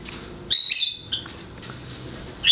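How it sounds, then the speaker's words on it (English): Small birds mobbing a hawk give sharp, high chirps in separate bursts: one long call, a short note and another call at the end, loud and close over a soft background. "They just keep attacking this hawk."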